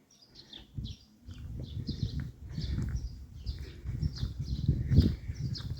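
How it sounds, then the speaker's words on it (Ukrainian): Small birds chirp in short repeated bursts, fairly near, over a low rumbling background that rises and falls, in frontline Kherson, Ukraine. "пташки цвірінькають."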